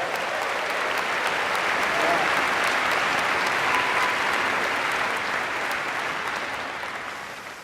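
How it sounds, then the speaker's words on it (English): Sustained audience applause at a Stanford Graduate School of Business diploma ceremony, honoring parents, family and friends of the class of 2018; dense, steady clapping from a large crowd that holds for several seconds and tapers slightly at the end. "please join me in giving a big round of applause to all the parents, family, and friends of the class of 2018."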